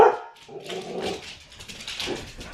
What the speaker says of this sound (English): The dogs are going nuts again.